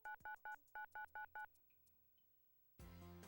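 Telephone dialing tones in a radio advert: seven clear, evenly spaced touch-tone beeps, close and distinct, followed by a quiet gap and then a burst of music.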